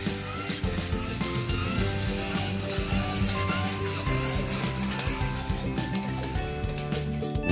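Paneer kebab sizzles on a grill, a constant dense crackling hiss with some scraping and clatter mixed in, close and fairly loud throughout with no talk.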